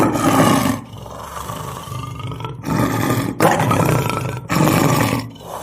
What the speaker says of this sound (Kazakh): бұл жолбарыс себебі оның дауысы естілген